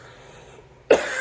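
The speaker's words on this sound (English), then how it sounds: "I've developed a cough again." A single sharp cough bursts out near the end after quiet room tone, close and fairly loud.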